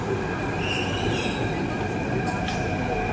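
A crowded Jaipur metro train pulling in, with a steady loud rumble of wheels on rail and a thin high squeal running through it. The sound is close and continuous, and nobody speaks.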